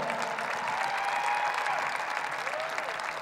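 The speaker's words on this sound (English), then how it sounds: "Give her a big round of applause" A crowd at a university basketball pep event gives a round of applause for the women's basketball coach, steady moderate clapping from a fairly distant audience throughout.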